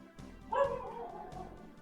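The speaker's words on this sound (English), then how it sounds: "the dog is barking on the background here" A dog barks and yips somewhere in the background, a couple of brief muffled outbursts, faint and indoors-sounding behind a quiet room.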